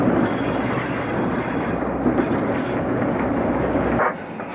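Culm train rolling over the rails between Swatara and Nesquehoning, a steady loud rumble with clattering wheel noise throughout, with no voices, the sound dropping sharply near the end.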